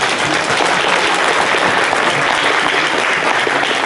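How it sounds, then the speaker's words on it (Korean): Loud, dense applause from an audience of elderly Korean traditional music performers and members at a hillside outdoor concert venue, a continuous roar of clapping throughout with no talk. "박수 한번."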